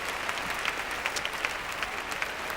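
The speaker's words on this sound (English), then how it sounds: "And a good reception from the crowd." An audience at the 2005 European dance championship in St. Petersburg applauds the dancers with steady, moderately distant clapping that holds an even density throughout the short stretch.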